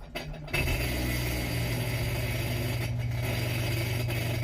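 A Sea-Doo Switch jet boat engine, set up for winterizing with antifreeze run through its cooling system, cranks briefly and then catches, settling into a loud, steady idle that runs without a break to the end.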